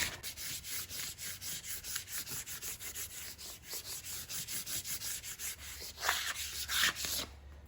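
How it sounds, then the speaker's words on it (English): A squeegee rubs transfer tape onto a business card holder in repeated, steady back-and-forth strokes, a close, dry scraping rhythm that grows louder near the end before stopping. "Use a squeegee."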